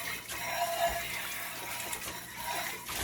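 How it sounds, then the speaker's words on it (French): Tap water runs steadily into a sink as dishes greasy with bacon fat are rinsed, a constant close splashing rush with small clinks and no talk. "Puis ensuite, je rince."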